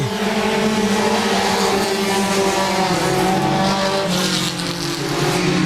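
Super late model stock cars roar around Laird Raceway during a heat race, a loud continuous engine drone with shifting pitch as the pack passes, with some tire noise and no talk.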